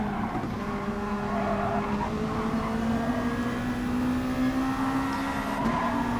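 A race car in the GT Sport video game spins through a full 360 after contact, its engine droning steadily while tires squeal and skid across the tarmac, loud and continuous with no talk.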